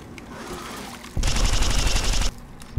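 A green laser Gatling-style gun in Fallout New Vegas fires one loud, sustained, buzzing stream of rapid shots lasting about a second, with quieter game sounds before and after.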